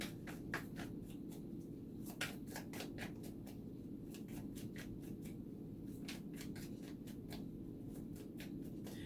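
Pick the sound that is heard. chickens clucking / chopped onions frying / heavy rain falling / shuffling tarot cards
shuffling tarot cards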